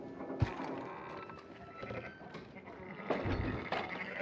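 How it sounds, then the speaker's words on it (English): Sheep in the video game Red Dead Redemption 2 give several short bleats against a quiet outdoor ambience, with a sharp early call and a louder cluster of bleats near the end. "Fine sheep."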